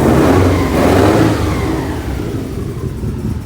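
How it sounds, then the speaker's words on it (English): A 2002 Subaru WRX engine with a cylinder misfire runs loud and close, its rumble uneven and sputtering as the revs settle down toward idle. "This is a misfire. That is a cylinder not firing."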